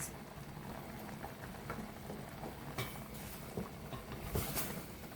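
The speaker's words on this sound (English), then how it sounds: "It's boiling" Chicken in coconut milk broth bubbles in a covered pot, a quiet, continuous simmering hiss with soft irregular pops and a few brief clicks, close and faint, with no voices.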